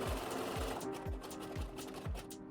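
A Bernina sewing machine runs its automatic buttonhole program, stitching the left bar tag. The needle thumps in a fast, steady rhythm, loud and close over a constant motor whir.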